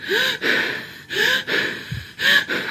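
A voice imitates heavy, laboured breathing, with loud close gasping inhales and exhales repeated in a steady rhythm about three times.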